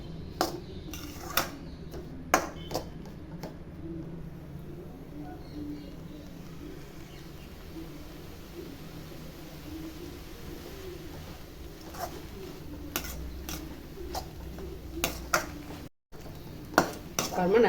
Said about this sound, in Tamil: கொஞ்சம் நல்லா வதக்கி எடுத்துக்கலாம்.